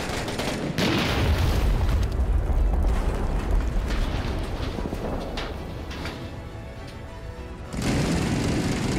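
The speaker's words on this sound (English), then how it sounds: "I see the mortars on the roof" Heavy booming blasts of mortar fire in the Six Days in Fallujah war game, a rumbling low explosion that fades into mechanical rattling, followed by another loud burst near the end.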